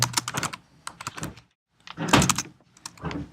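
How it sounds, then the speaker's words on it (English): Typing on a computer keyboard, quick clusters of light key clicks in two bursts separated by a brief pause, close and fairly loud with no voice over them. "Type in the student's name."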